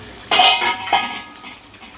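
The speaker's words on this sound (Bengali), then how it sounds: "ঢাকনাটা আমি খুলে রাখলাম খুলে দিলাম" A metal lid comes off a cooking pan of potatoes and pointed gourd with paneer, giving a sharp clanging clink followed by a couple of lighter metallic taps, close and clear with no talking.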